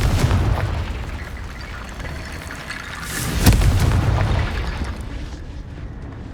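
Confringo spell explosions from the video game Hogwarts Legacy: rumbling low booms throughout, with one sharp, loud blast near the middle that fades into a rolling tail, no voices.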